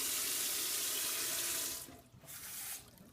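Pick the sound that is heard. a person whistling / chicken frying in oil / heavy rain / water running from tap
water running from tap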